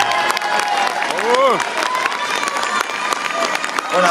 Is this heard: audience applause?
yes